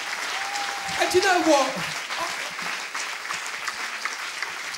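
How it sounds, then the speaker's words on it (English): Audience applause at a launch event rises and then fades to a lighter patter, while someone speaks over the clapping near the start. "A massive round of applause"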